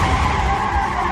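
A car's wheels spin in place with a sustained, loud, steady skidding whine and engine roar, sounding like a racing car while going nowhere, continuous and close throughout.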